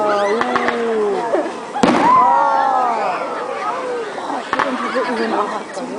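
Fireworks burst at a family day display, with a few sharp bangs and crackles heard at a distance. People chatter and exclaim over them throughout.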